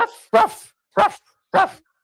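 A person imitates a dog barking with four sharp, close, voiced woofs at roughly even intervals, separated by silence.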